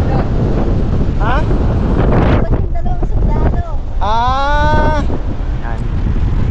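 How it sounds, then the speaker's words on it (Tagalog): Strong wind buffets the microphone with a steady roar on a beach at Casapsapan, Casiguran, under brief shouting voices and rising tonal calls. "Di ko alam kung malinaw ba ang aking dahil lakas po ang hangin"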